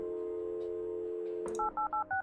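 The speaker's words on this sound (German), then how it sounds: "ich rufe gerade bei mir selber an" Phone number dialing in the Kathy Rain video game: a few crisp keypad tones in quick succession, clear and close over a steady background music hum.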